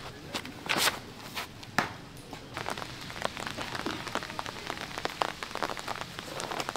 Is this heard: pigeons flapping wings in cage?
no